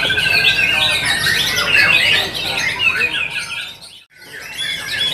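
White-rumped shama (murai batu) at a songbird contest in Surabaya, singing loud, dense, rapid whistled phrases and harsh squawks nonstop, with other contest birds overlapping and a brief pause near the end.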